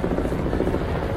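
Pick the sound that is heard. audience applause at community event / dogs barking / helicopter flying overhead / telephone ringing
helicopter flying overhead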